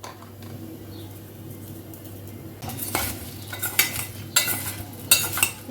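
Puffed rice (muri makha) tossed with onion, chilli and coriander in a bowl, starting with a faint background hum, then close, rhythmic scraping and rustling bursts of mixing in the second half.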